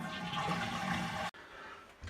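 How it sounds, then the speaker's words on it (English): A toilet flushes in a steady close rush of water that cuts off abruptly, leaving a quieter tank refilling hiss afterward. "I'm going to flush it down and we're going to remove this fill valve."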